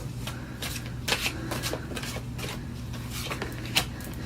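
Tarot cards shuffled by hand in a quick, continuous riffle of papery flicks and slaps, close and steady, with a low hum underneath and no talking.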